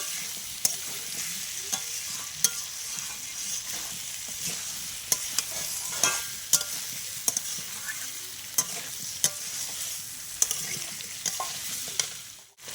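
Spice paste sautéing with potato, pointed gourd and jackfruit seeds in a pan, a continuous sizzle broken by sharp spatula scrapes and knocks at irregular intervals, close and without talk.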